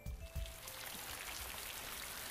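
Heavy rain pours steadily outdoors onto a park avenue and porch, a dense, even hiss of drops filling the scene without pause, fairly soft in level.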